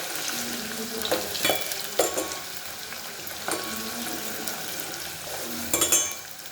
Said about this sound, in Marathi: कांदा आणि लसूण लालसर भाजून घ्यायचं, मस्त तेलामध्ये फ्राय करून घ्यायचं